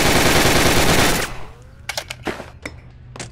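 Classic AK-47 with a banana clip firing full-auto in the VR shooting game Gun Club VR: a loud, dense burst runs for over a second, then a few separate sharp shots ring out at close range.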